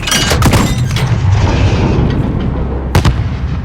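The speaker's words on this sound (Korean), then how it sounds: "옥상의 박격부로 조명탄을 쏴." Mortar launching illumination flares from a rooftop in a Call of Duty: Modern Warfare embassy mission, heard as loud booming reports with sharp bursts near the start and another around three seconds, over dense continuous battle noise.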